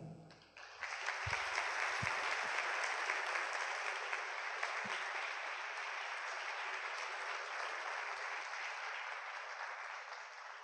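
A conference audience claps to welcome a guest speaker, a film and television figure, onto the stage. The applause swells quickly and holds as a dense, steady clatter for about ten seconds, with a few louder thumps near the start.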